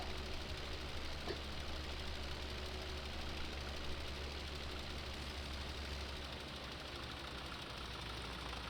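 A Massey Ferguson tractor in Farming Simulator 17 idles with a steady, continuous rumbling engine drone and a slight knocking texture. The sound stays even throughout, and no one speaks.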